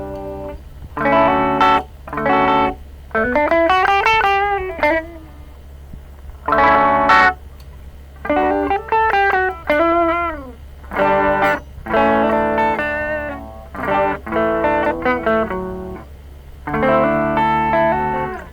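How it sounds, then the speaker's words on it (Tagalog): Guitar played through the clean Super Reverb preset on a MEFCS effects unit, a series of strummed chords and bent single-note phrases in separate bursts, loud and close with a wet, chorused sustain and no talking. "So try natin yung super reverb na clean."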